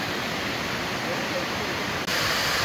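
Rushing waterfalls and river water along a hiking trail at Ricketts Glen, a loud, dense, continuous roar of falling water filling the whole stretch without pause.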